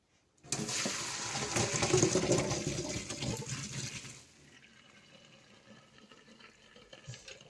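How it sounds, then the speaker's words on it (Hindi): Hot water from boiled macaroni poured off through a strainer in a kitchen, a loud rushing splash for several seconds that tapers to a softer trickle. "अब पानी छान देते हैं।"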